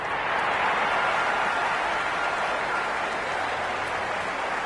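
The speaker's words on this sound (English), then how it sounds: "The crowd is electric right now." Cricket crowd at a match applauding in a steady, dense wash of clapping and cheering that holds at an even level throughout, with no clear talk on top.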